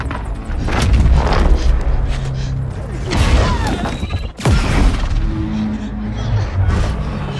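Gunfire and heavy booms in Mirror's Edge Catalyst, with loud close shots and crashing impacts mixed with mechanical noise and voices talking during the chaos.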